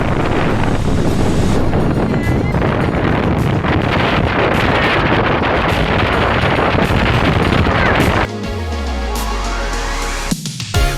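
Strong wind on Mount Tongariro buffets the microphone in loud, roaring gusts that drop away abruptly near the end, leaving a quieter rumble with brief tonal sounds.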